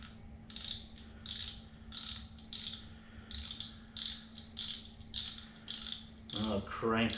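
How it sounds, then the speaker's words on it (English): A fishing reel's handle is cranked to wind fresh line onto the spool, giving a rhythmic, evenly spaced ratcheting clicking, about eight turns, close and moderately quiet with no talking. "I'll crank her down"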